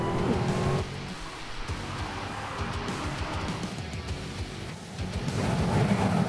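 A Dodge Charger Hellcat's engine drones and rumbles as the car drives along, with a shift in tone partway through, steady and fairly close.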